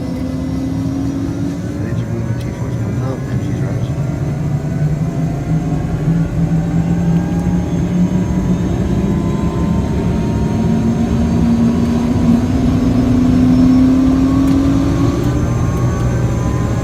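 A law enforcement aircraft's engine holds a steady loud drone that climbs gradually in pitch as it rises during takeoff, close and continuous throughout with no break.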